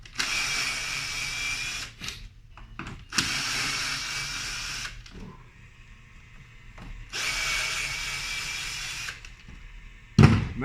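A power drill whirs in three long bursts with short pauses between, unscrewing a wooden stair nosing piece in a workshop, with faint clicks and handling noises in the gaps.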